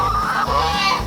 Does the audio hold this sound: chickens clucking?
yes